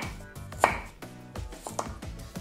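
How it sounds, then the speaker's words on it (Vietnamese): A knife slicing fresh ginger root on a cutting board in a home kitchen: several crisp, separate chops land irregularly, close and clear, with no talk. "Củ gừng này mình xắt lát nè."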